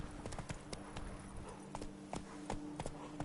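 Horse hooves from the video game The Witcher 3, beating in a quick, regular clip-clop gallop, close and continuous across the whole stretch.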